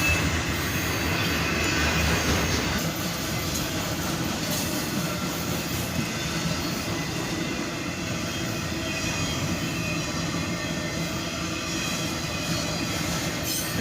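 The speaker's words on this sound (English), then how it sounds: "A solid auto rack train." CSX auto rack freight train rolling steadily past at close range, a continuous loud rumble of wheels and cars with faint squealing, no voices.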